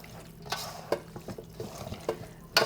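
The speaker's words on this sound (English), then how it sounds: "I'm just going to use my hand, y'all. There we go. So give it another good mix, y'all. Mix it up good." Buffalo wings tossed by hand in sauce: wet squelching and slapping of coated meat, irregular soft splats and sticky stirring sounds, close and fairly quiet with no talking.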